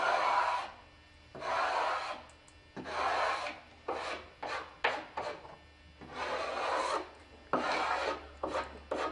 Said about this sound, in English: I'm just scraping right down.